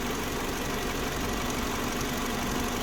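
A Mini Cooper engine with a fault that backfires through the inlet, revved hard, giving a steady, loud, dense roar that fills the whole stretch without talk.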